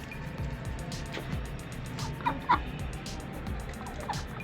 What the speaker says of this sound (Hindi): ये देखिए डक्स क्या कर रही है।